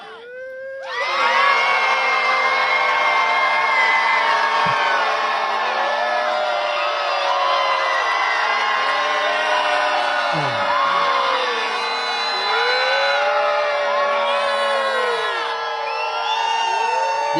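A protest crowd bursts into sustained screaming and cheering, loud and continuous with whoops and yells layered over a dense roar that holds steady for many seconds.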